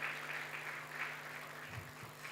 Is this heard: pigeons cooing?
no